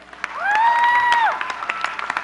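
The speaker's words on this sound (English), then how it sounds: "Give yourselves a round of applause for being here." Crowd applause at a Martin Luther King Jr. commemorative vigil in Arkansas, with scattered claps around a loud sustained whistle-like tone that rises and falls away after about a second.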